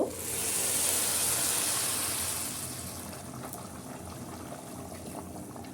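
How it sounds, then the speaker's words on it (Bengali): Boiling water poured onto fried basmati rice in a pot for morog polao, a loud rushing hiss and pour at the start that gradually softens into a steady simmering bubble, with no talking. "আমি এখন ফুটন্ত পানি দিয়ে দিব"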